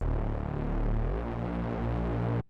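A distorted Reese bass synth in Ableton Live 11 holds a loud, thick, throbbing low drone with slowly shifting harmonic buzz, sustained alone for over two seconds before cutting off abruptly.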